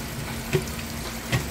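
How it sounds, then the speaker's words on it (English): Kenmore direct drive washer agitator kicking during a wash cycle: two soft, distinct thumps about 0.8 seconds apart over a constant low churning water hum and a faint steady tone. "I'll be able to let you hear that agitator kick. So that's it kicking in the direction as it goes."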